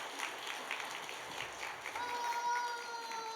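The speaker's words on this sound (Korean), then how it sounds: "하나님께 영광의 박수 올립시다" Congregation clapping at a Friday night healing service in a church, a steady broadband patter of many hands, moderately distant, with a sustained tone rising beneath it in the second half.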